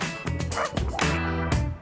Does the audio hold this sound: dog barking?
yes